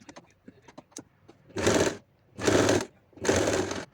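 A sewing machine stitching the side opening of a child's umbrella frock skirt, heard in three bursts of whirring stitching after a run of small clicks and handling sounds, close by, with no talking.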